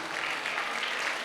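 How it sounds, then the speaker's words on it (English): An audience at a motivational talk claps together, a brief burst of dense, even, fairly distant applause with no voices over it. "A big round of applause to the teacher who taught us all these things."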